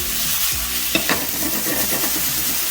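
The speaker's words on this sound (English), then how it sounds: "So we're letting it fry and then stir." Chicken stir fry sizzles steadily in a hot pan, a loud continuous hiss broken by a few scraping stirs, with no talking over it.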